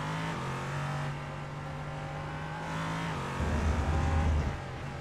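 LMP3 prototype race car engines in a sim racing game at Algarve International Circuit, a steady droning whine that holds pitch, then a deeper rumbling surge near the end.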